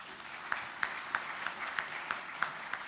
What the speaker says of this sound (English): could we give all of them a round of applause?